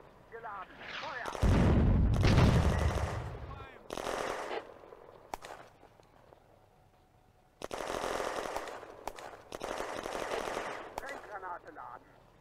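Rapid bursts of machine-gun and artillery fire in the Eastern Front war game Firefight, set in June 1941 around Kulikova Ridge, come in two loud sustained volleys separated by quieter gaps with scattered shots.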